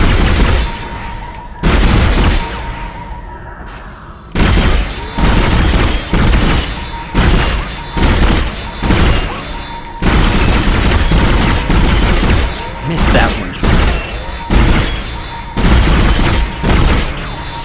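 Gunfire at the shooting range in the sci-fi horror game Dead Space: loud repeated bursts of shots in rapid clusters separated by short gaps, with a faint tonal hum between volleys.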